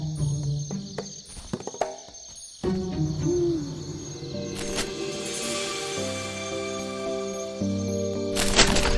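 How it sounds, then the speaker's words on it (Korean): An owl hoots in a forest at night in Gwangneung Forest, a soft low call rising among clicks and cracks, set against layered background music and ambience, no talking. "올빼미는 소리로 어둠의 세상을 꿰뚫어 봅니다."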